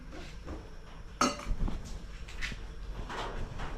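Pots, dishes and utensils clatter and clink while getting ready to cook rice outdoors, with one sharp loud clank followed by scattered lighter knocks and scrapes.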